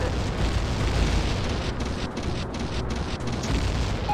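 An explosion in The Legend of Zelda's Dodongo's Cavern rolls out as a loud, sustained broadband rumble with a few faint crackling breaks, and no voices.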